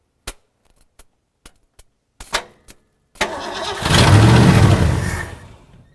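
An old Ford engine cranks and fires up, preceded by several sharp clicks and a short cranking attempt, then catching into a loud, steady running roar up close with no talking.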